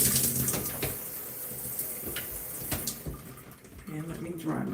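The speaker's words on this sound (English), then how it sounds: "so I'm going to rinse them off." Running tap water splashing over hands being rinsed at a sink, a steady wash of water with some movement and a change in flow near the end; no speech.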